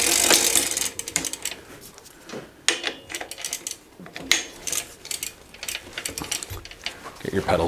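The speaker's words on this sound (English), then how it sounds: "then you get your pedal wrench. And just pedal backwards, tighten the pedal down." A pedal wrench tightens the pedal on a 1987 Mongoose ATB vintage mountain bike while the cranks turn backwards, giving close, irregular ratcheting clicks and metallic clunks with brief pauses. Voices can be heard alongside.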